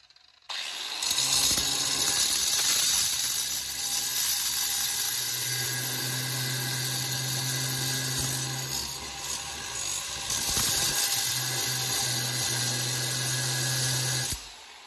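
Steady, loud, high-pitched whine of a grinder cutting apart a blower fan motor clamped in a vise, running continuously with small shifts in pitch and load before cutting off at the end.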